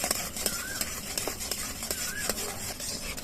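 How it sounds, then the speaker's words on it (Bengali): Milk being stirred continuously in a wok-style kadai for mango ice cream, with a steady low simmer and repeated scraping strokes of a spoon against the metal pan, close and moderately loud, no talk. "দুধটা কিন্তু কড়ার মধ্যে কিন্তু এইভাবে অনবরত নাড়তে থাকবো"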